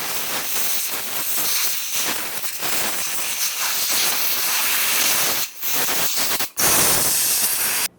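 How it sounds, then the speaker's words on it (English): Compressed air blows over the top of a 2004-2015 Nissan Titan fuel tank in a steady, loud, close hiss, broken by two brief pauses near the end. "Now let's use some compressed air and gently blow air in the area."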